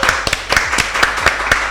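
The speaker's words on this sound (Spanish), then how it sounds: "Yo quiero que le demos un fuerte aplauso." Rhythmic, close hand claps in a steady beat of roughly four per second, like a small audience or a single person applauding in a studio.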